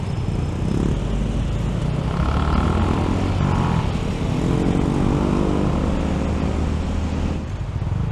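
A steady Honda Grom engine drone with rushing wind noise runs throughout while riding in Bangkok, fairly constant in level with slight shifts in pitch.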